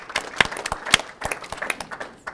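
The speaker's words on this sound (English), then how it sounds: "if you would join me in just giving her a round of applause, I think it would be in order" Scattered applause at a county board of commissioners meeting for a retired school teacher, a small group clapping in loose, uneven bursts, close and sparse rather than a full roar.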